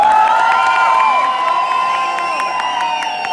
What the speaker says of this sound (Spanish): Aplausos para la gala número 3.